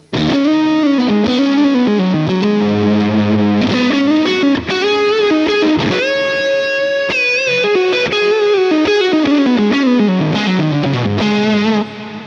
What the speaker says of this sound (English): Vintage style lead tone, you know, obviously that's probably too much delay and reverb for most of you